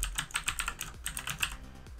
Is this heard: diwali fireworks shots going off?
no